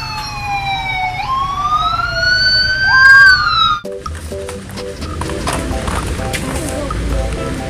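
A toy Sabhara police car siren wails with rising and falling electronic tones, then cuts to a rapid beeping pattern with mechanical clicking close by.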